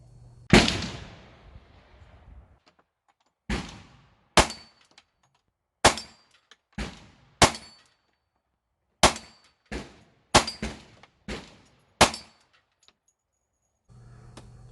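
Glock 19X pistol fired at a steel plate rack, about a dozen sharp shots with metallic clangs in irregular quick bursts, loud and close with short ringing tails.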